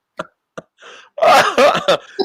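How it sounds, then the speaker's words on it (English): A few short, sharp coughs, then a burst of louder, rough throat sounds and a final small cough, close to the microphone. "This is a cough of happiness"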